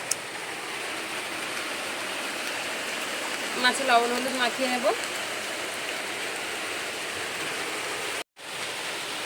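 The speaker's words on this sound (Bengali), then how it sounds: "এক ঝাপটা বৃষ্টি হয়ে গেল, গিয়ে থেমে গিয়ে আবার বৃষ্টি আসলো" Steady rain falls again in broadband hiss throughout, with someone speaking briefly over it before a sudden short cut near the end.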